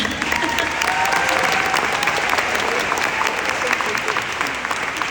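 Audience applause at the Sarcoma Foundation of America Compassionate Care Award ceremony: dense, sustained clapping from a large crowd fills the whole stretch at an even, loud level.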